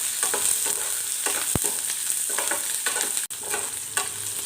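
Garlic and green chilies frying in a pan for peanut chutney, a bright steady sizzle punctuated by repeated scraping strokes of stirring and one sharp knock.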